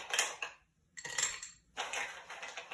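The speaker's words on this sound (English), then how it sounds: "We'll ice this glass." Ice clatters into a cocktail glass for a whiskey smash, three separate bursts of bright clinking and rattling cubes with short silent gaps between them, close and clear with no talking.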